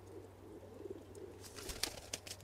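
Pigeons held in the hand give soft, low coos at close range, faint against a steady hum, with a few sharper rustles and clicks toward the end.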